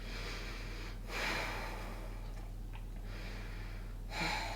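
Slow, deep breaths drawn in and released during a Pilates class, two soft, airy inhalations a few seconds apart over a low steady hum, close and quiet.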